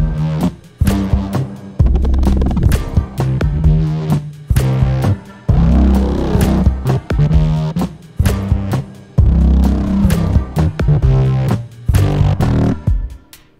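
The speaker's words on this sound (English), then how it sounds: "we're gonna push it into place using a reverb," Bass line with a roomy plate reverb tail plays continuously in a rhythmic pattern, notes blending and ringing into one another.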